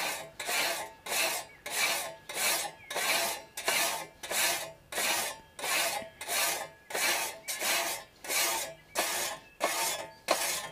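A hand file rasps along an old, previously peened scythe blade in steady back-and-forth strokes, about fourteen evenly spaced bright scraping passes, close and loud with no talking.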